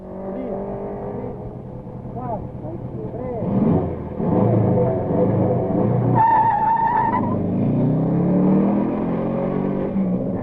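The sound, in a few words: Triumph rally car driving toward timekeepers, 1971 Rally de Portugal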